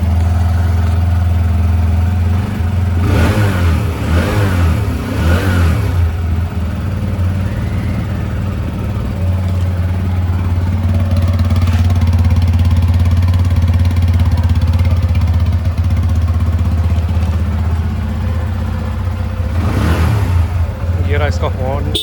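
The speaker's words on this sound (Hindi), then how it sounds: "मैं फिर से इसका एग्जॉस्ट साउंड एक बार सुना देता हूँ।" A TVS Apache RTR 160 2V motorcycle with an enlarged muffler idles with a deep, throaty exhaust, blipping the throttle in a few quick revs early on and once more near the end.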